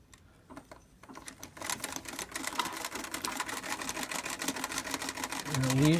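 A Singer 306 sewing machine stitching, starting quiet then breaking into a fast, steady mechanical clatter of rapid regular ticks that grows slightly louder at the end, with a low whirring motor beneath.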